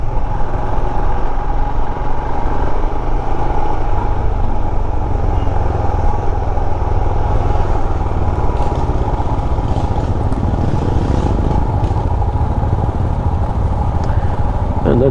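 A fleet of Royal Enfield Himalayan motorcycles rides through cold Himalayan mountain country, a loud, continuous engine drone mixed with wind rush throughout, with a voice faintly over it.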